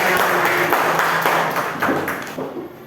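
Students applaud in a classroom during an Islamic religious studies lesson, a brief burst of mixed clapping that fades out toward the end, with some faint voices underneath.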